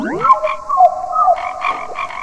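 Cartoon frogs croak in a rapid series of bright, tonal calls in the Bee Swarm Simulator video game, loud and close with no talk over them.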